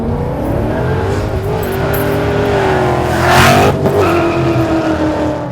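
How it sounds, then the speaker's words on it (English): A Vortech-supercharged 2011 Mustang GT with the 5.0L engine revs loudly and close, its pitch climbing and falling through the rev range with a sharp surge partway through. No voices are heard. "So boost just keeps coming all the way through the RPM band, and we'll give you a little sample here."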